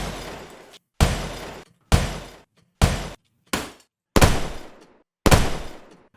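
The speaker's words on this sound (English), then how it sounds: "these gunshots here have an interesting tail" Seven loud, sharp gunshots fire one at a time with irregular gaps, each blast trailing off in a brief decaying tail before silence.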